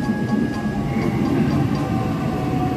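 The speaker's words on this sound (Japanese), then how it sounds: "これが17番乗り場。 私が向かう列車ですね。" A train running at platform 17 in a Sydney station: a steady, loud rumble with a low mechanical drone and a faint whining tone, continuous throughout.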